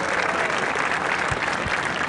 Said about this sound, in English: Can we have one more round of applause for all the 7th graders?